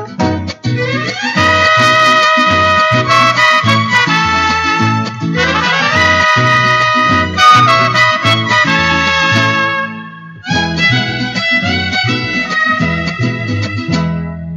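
A lively mariachi band plays loud and close, with bright brass lines over strummed guitars and a steady bouncing bass, a short pause before the tune resumes.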